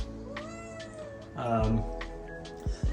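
A talkative cat meows repeatedly, close by and fairly loud, in a kitchen during chili cooking.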